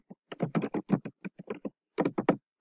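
Typing on a computer keyboard comes through as close, quiet keystrokes in irregular quick bursts with short pauses between clusters, and no voices.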